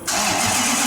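A rebuilt car engine, built to 700 bhp with factory parts, cranks and fires for the first time, a loud, steady engine roar that jumps in abruptly and holds close to the microphone for under a second.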